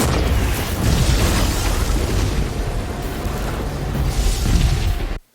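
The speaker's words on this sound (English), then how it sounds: "Then has to react to an explosion like this." A loud, sustained explosive roar fills the scene, rumbling and swelling for several seconds before cutting off abruptly.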